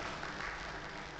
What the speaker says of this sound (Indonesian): mari kita beri tepuk tangan yang meriah untuk pasangan calon nomor urut 1